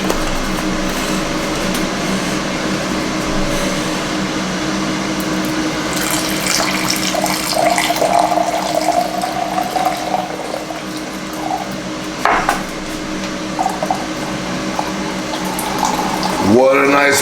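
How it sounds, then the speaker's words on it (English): Liquid pours steadily into a container, a soft trickling gurgle that rises slightly in pitch, with faint background noise and a brief clatter near the end. "What a nice pour!"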